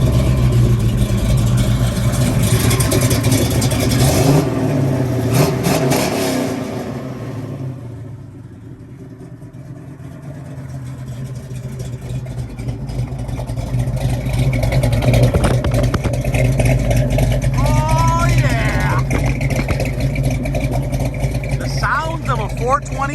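A 1970 Dodge Challenger's 426 Hemi V8 engine idles with a lumpy rumble, dips, then rises again as it revs, with a person talking over it.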